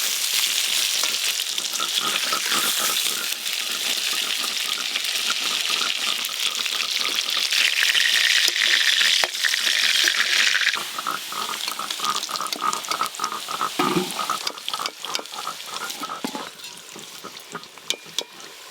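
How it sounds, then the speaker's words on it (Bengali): Pointed gourd (potol) frying in hot oil gives a steady, dense sizzle that runs the whole way through, loud and close, with no talking. "পটলগুলো ভেজে নিয়েছি, এবার তুলে নেব।"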